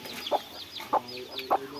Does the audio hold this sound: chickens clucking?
yes